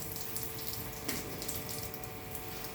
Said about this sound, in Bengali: আপনারাও চাইলে এরকম একটা ছোট্ট প্রেশার পাম্প লাগিয়ে নেবেন একদম এই ফোয়ারের মতন জল করবে